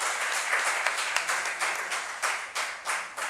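An audience in an auditorium at an inauguration ceremony in Mumbai claps steadily, a dense patter of many hands with a few louder individual claps, fairly close and without talk.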